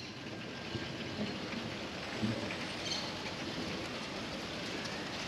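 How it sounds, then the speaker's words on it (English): Steady rain falling outdoors while walking along Carretera Masaya in Managua, Nicaragua, a soft continuous hiss with a faint low rumble underneath. "the rain is coming"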